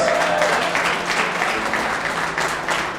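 A crowd claps in steady applause for the Bronx Borough President at a women-in-construction chapter event, dense and loud throughout without a pause.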